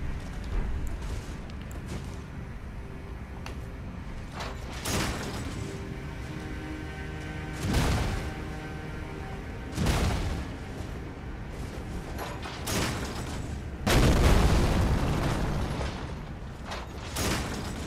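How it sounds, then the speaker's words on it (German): Fireballs from the Fire Spitter skill in Elden Ring burst in several loud, broadband booms at an irregular spacing, one roughly every two to four seconds, each rising over a continuous game backdrop of drones and mechanical tones. "Hebt den Schild, um einen Feuerball zu schleudern. Der Feuerball explodiert beim Aufprall."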